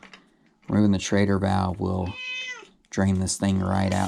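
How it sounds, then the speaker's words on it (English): A pet cat gives a short, fairly quiet meow in a pause between a man's speech, during a rear-tire install on an e-bike. "That's my cat."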